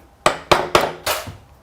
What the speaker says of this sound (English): As soon as you start hammering,